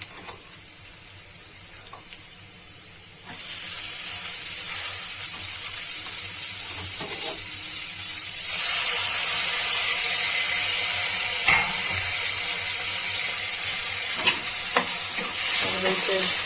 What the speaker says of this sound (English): We are going to add tomatoes.